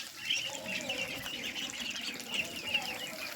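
A flock of 28-day-old local ducklings, mostly black and still growing their feathers, keeps up faint, high, overlapping peeps and chirps throughout, with a soft background hum.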